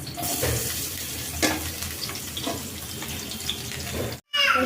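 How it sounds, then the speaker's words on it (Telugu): Onions, green chillies and garlic frying in a kadai pan, a steady close hiss and sizzle with faint stirring scrapes, cutting off briefly near the end. "ఆనియన్స్ పచ్చిమిర్చి వెల్లుల్లి ఇవి ఫ్రై చేసుకుంటున్నాం కళాయిలో వేసుకుంటున్నాం"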